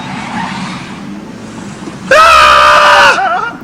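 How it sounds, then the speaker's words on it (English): A person in a self-driving car lets out a loud, high, sustained scream that starts abruptly and holds for about a second, over low car cabin rumble and background noise. "That scream, okay, that is the primal scream of humanity meeting advanced technology"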